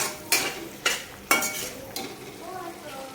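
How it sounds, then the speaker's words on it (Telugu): Mushroom biryani masala being stirred in a pan after yogurt is added, with three or four sharp spoon scrapes against the pan over a low simmering sizzle, close and with no voices. "పెరుగు వేసిన తర్వాత ఒకసారి ఇదంతా బాగా కలుపుకోవాలి"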